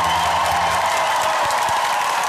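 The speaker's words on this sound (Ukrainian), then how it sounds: "Зал вибухає оваціями." Concert hall audience bursting into an ovation for a singer as he takes the stage in a liberated zone of the ATO area, a steady loud wash of clapping and crowd noise throughout.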